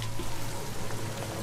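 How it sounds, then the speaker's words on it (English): Steady rain falls in a cartoon pony episode, a dense, even hiss of drops with a low hum underneath, continuous and fairly loud throughout with no talking. "It's raining."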